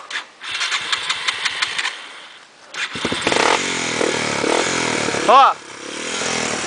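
Motorcycle engine on a trail in Sinop, first revving in rapid pulsing bursts, then cutting out before roaring back up and surging loudly with a brief higher whine, while a voice speaks over it.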